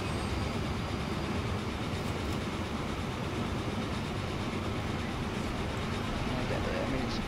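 A train runs steadily on rails, a broad continuous rumble with faint rhythmic clatter holding level throughout, with no talk over it.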